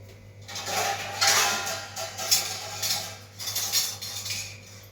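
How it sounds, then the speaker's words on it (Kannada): A plate and a dosa pan being picked up and set down in a home kitchen, with several bright metallic clatters and clanks in irregular bursts, close and fairly loud, over a steady low hum and no talk. "ಪ್ಲೇಟ್ ತೊಗೊಂಬಂದೆ ರೀ, ಹಂಚು ತೊಗೊಂಬಂದೆ ಹಾಕೋಕೆ."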